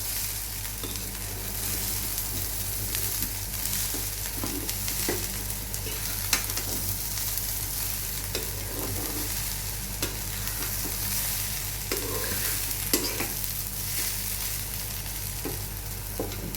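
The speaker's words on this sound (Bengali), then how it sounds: "এই চালগুলো এখন ভাজা হচ্ছে" Rice sizzling and frying in a pan for prawn pulao while being stirred, with soft scraping and clinking of a spoon over a steady hiss.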